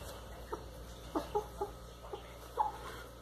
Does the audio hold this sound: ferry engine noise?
no